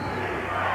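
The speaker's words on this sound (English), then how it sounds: "here's it from the crowd. They love his hustle." A basketball crowd at a Knicks game roars in a short, sustained burst of cheering for a player's hustle, dense and loud throughout.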